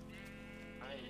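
A sheep in the Minecraft video game lets out a wavering bleat that rises near the end, heard faintly under a steady hum in one short burst.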